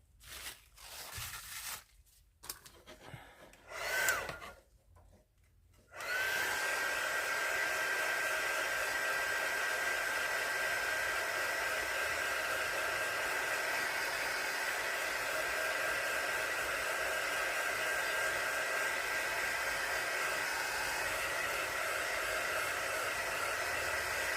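A hair dryer blows steadily on ceramic resin for an air plant terrarium, a constant loud airy whoosh that starts after several seconds of scattered handling noises and runs unbroken to the end.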